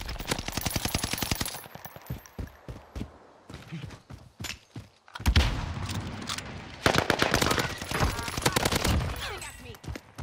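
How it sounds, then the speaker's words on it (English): Rapid automatic gunfire in the Warzone video game, with dense bursts of fast shots, quieter gaps with scattered single shots and footsteps, then renewed heavy firing, close and loud, with some speech mixed in. "Oh, I'm getting shot at by somebody."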